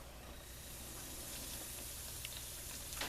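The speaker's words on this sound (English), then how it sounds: "I'm going to take a small piece of my chicken, and we'll see how it sizzles when it goes in there." Chicken breast dredged in flour sizzles in a hot iron skillet, a steady soft hiss and crackle of frying that stays fairly quiet and even, with a slight flare of spitting near the end.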